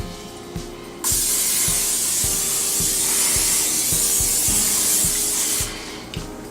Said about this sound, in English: next we're gonna Pam the pan